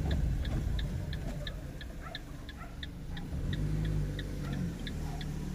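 A car's turn signal indicator ticks in a steady, regular rhythm inside the cabin during a reversing and double-parking manoeuvre, over a low engine rumble with no talking.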